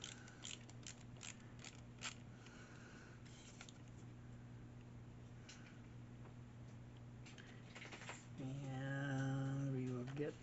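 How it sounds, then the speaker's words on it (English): Small screwdriver driving screws into plastic parts of a Fanhome Lamborghini Revuelto model kit, giving close, soft clicks and scraping twists under a steady hum, with a louder creaking turn near the end. "we'll just start screwing these screws in there"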